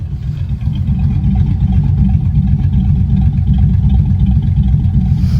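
A Chevy S10 truck engine rumbling loud and close, a deep, steady throaty revving that holds throughout with no talking.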